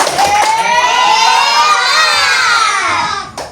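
A school class of children claps and shouts a loud, sustained cheer together, their voices rising and falling as one crowd close by and filling the room throughout.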